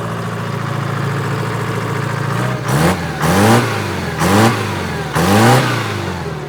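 An old backhoe engine runs while being driven, a loud steady rumble broken by four rhythmic revving surges near the end, close and alone.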